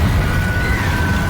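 Confringo, a blasting spell in Hogwarts Legacy, fires off with a loud, dense burst of noise, a rumbling blast whose high whine sweeps across the brief moment, close and alone.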